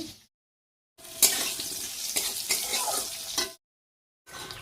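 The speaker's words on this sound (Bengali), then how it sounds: "মশলাটাকে কষাচ্ছি" Spiced masala of tomato, onion, garlic and ginger sautéed in a pan, bursts of loud sizzling and scraping stirs separated by short silent gaps.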